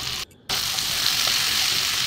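Spices such as chilli and cumin powder fry with potatoes and chickpeas for chole, giving a loud, close sizzle that cuts out for a moment and then resumes steadily with faint stirring and no voices.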